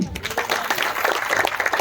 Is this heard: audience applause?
yes